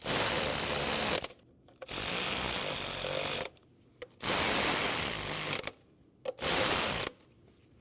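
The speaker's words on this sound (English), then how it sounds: "put your 4 10mm bolts back in, tighten those." A hand ratchet tightens 10mm bolts that hold the plastic plate over the ignition coils of a 2012–2016 Honda CR-V 2.4L. It clicks rapidly in four close bursts separated by short pauses, with no talking.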